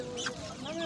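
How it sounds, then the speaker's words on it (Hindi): Chickens cluck in a brief, fairly faint burst at a crowded market where poultry is sold, with a couple of short clucks over background crowd murmur. "मुर्गी आ गई है"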